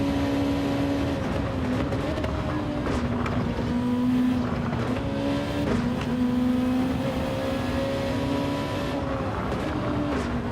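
A GT2 race car in Gran Turismo 7 drones steadily through a lobby race, its engine tone rising and dipping with gear changes over a continuous wash of road and tyre noise.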